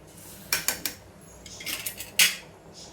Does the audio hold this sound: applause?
no